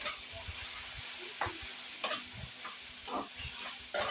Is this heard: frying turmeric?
yes